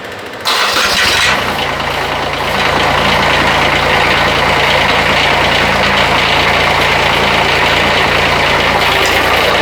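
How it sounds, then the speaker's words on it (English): A Kubota diesel engine swapped into a Bobcat 371 cranks and starts, then runs loud and steady up close, with a faint metallic rattle from the tailpipe hitting the frame. "So you can hear a little bit of metallic noise, and that's the muffler, the tailpipe hitting the frame."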